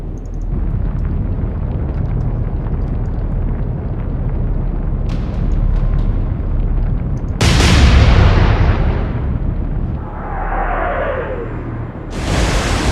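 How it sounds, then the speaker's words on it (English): Warship guns firing shells in the naval video game Atlantic Fleet, a dense rumbling barrage of loud booms and blasts that swells into a heavy roaring explosion, then fades to a whistling decay before another sharp blast. "Ajax and Achilles are firing quite small shells compared to Exeter"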